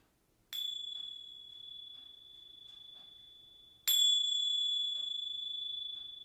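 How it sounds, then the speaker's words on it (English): A meditation bell is struck at the close of a session, with two clear metallic strikes about three seconds apart, each ringing out and slowly fading in an otherwise quiet room. "I'll ring the bell now 3 times."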